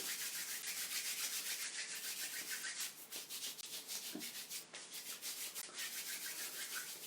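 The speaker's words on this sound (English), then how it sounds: "rub your hands together" Hands rubbing together briskly to warm up, a soft steady dry friction swish close by, repeating rhythmically and quietly with no talking.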